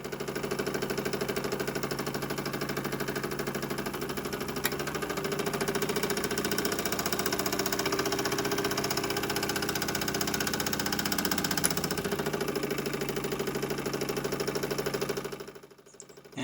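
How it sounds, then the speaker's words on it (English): A collectible working A. Müller model steam engine runs steadily with its flywheel turning, giving a continuous close mechanical chugging hum with faint rhythmic clatter and a couple of small clicks, stopping abruptly at the very end. "That is the A. Müller steam engine."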